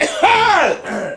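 A single harsh cough, the kind a cold-weather cough tea is offered for, sounds close and loud, rising into a hoarse voiced rasp and followed by a brief softer tail.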